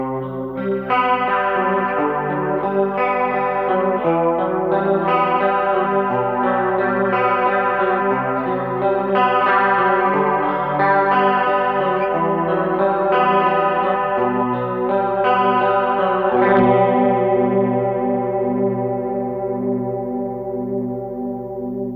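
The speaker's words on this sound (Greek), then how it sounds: "Πάμε το πρώτο εφέ, το chorus," Electric guitar played with a clean tone through the chorus effect of a Tsakalis AudioWorks Puzzle multipedal, strummed chords and arpeggios shimmering and swirling, loud and continuous, with the last chord left to ring out.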